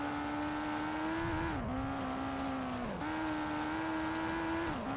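A rally car in V-Rally Championship Edition 2 holds a steady engine drone with pitch dips between gear changes as it is handbraked across the finish line, loud and continuous, with no talking.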